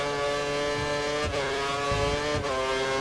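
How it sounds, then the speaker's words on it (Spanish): A Formula 1 car in the F1 2013 racing game, on the British Grand Prix circuit, screams at high revs with a steady harmonic whine, dipping briefly at two gear shifts before climbing again, loud and continuous. "Vamos ahí, muy bien, acelerando."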